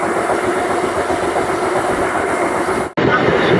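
An eight-car passenger train runs fast along the rails in Bankura, India, heard from inside as a loud, continuous rumble and rattle with a sudden brief drop in the noise near the end.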